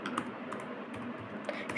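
Keyboard keys tapped in an irregular run of light clicks while someone types a JavaScript filename, close and fairly quiet over a faint room hum.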